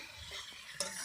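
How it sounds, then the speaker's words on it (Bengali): Meat being stir-cooked down in a pot with spices and potatoes, a steady scraping sizzle with a sharp clatter near the end, close and fairly quiet, no voices. "দেখো এখানে মাংস কষানো হচ্ছে"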